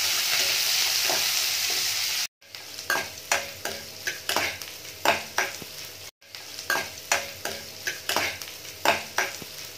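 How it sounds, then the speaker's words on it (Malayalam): Cashews, curry leaves, peppercorns, green chillies and ginger frying for rava idli, a rapid series of distinct spatula scrapes and taps over a sizzle, close, with two short silent gaps and no speech. "കശുവണ്ടി പരിപ്പ്, പിന്നെ നമ്മൾ എടുത്തു വച്ചിരിക്കുന്ന കറിവേപ്പില, കുരുമുളക്, പച്ചമുളക്, ഇഞ്ചി, ഇതെല്ലാം ഇട്ടൊന്ന് നമുക്കൊന്ന് ഇളക്കി കൊടുക്കാം."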